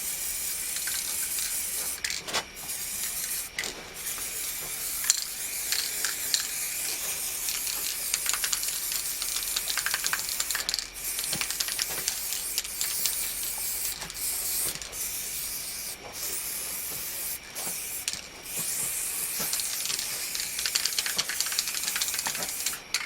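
Continuous hissing of an aerosol spray paint can, warmed with a hair dryer, runs steadily throughout while painting Honda CB 500 parts, close and fairly loud, with brief pauses and short bursts where the nozzle is released and pressed again.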